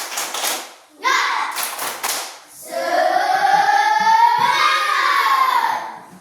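Schoolchildren in a classroom perform a rhythmic spirit clap: a few sharp bursts of group clapping at the start, followed by the children chanting together in a sustained unison call.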